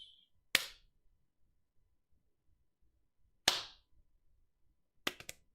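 Three sharp, isolated hand claps rather than five, spaced a few seconds apart against near silence, each a single crisp slap, fairly close and moderately loud, during a casual live game stream.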